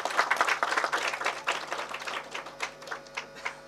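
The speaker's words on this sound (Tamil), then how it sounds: "அதுக்கு எல்லாருமே ஒரு கைத்தட்டல் கொடுத்துருவோம்" Audience applause at a Tamil film event for the movie Aiiyoyo, a dense patter of many hands clapping at moderate distance that gradually thins and softens over a few seconds, with no talk over it.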